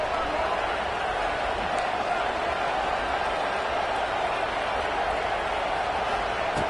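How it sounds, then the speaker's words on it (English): A packed stadium crowd at a Florida vs Miami college football video game roars in a dense, steady wash of noise that never lets up, loud and continuous with no breaks. "listen to this crowd noise. This stadium is vibrating."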